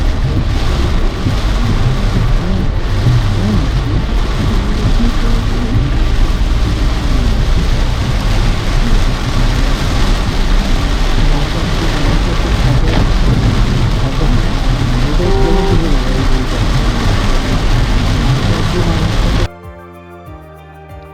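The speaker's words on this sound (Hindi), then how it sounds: "ज़ीरो विजिबिलिटी है। इतनी बारिश मैंने पहले कभी नहीं देखी।" Heavy rain pounding a moving car on a road trip from Gurgaon to Ayodhya, a loud continuous roar of drumming water and road rumble, close and steady, cutting off sharply near the end.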